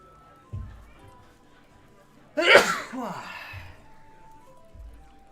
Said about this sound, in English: Hopefully that's not a COVID sneeze.